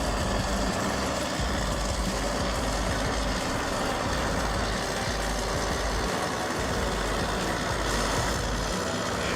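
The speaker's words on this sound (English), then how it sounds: "Caterpillar bulldozer roars into action, cutting deep into the earth with its massive steel blade." Caterpillar bulldozer engine rumbling steadily as its steel blade pushes soil to carve a trench, a continuous loud, dense low roar with no pauses.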